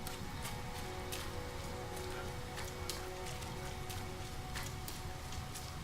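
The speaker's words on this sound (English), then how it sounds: "Spoiled by toxic rain" Toxic rain falling in No Man's Sky, a faint steady patter with scattered sharper drop ticks over a low ambient hum, no voices.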